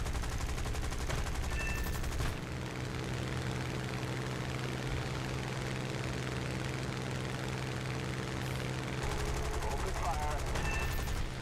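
Aircraft guns fire in War Thunder, with bursts of rapid gunfire at the start and again near the end over a constant engine drone, and a voice speaks lightly underneath.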